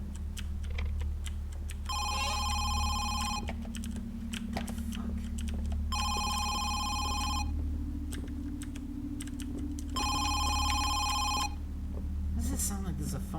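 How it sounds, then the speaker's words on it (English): A telephone rings downstairs, muffled through the walls of a house in the VR game Home Sweet Home, sounding three evenly spaced bursts over a low background hum and scattered clicks. "I think it's the phone ringing from downstairs because I can hear it through the walls"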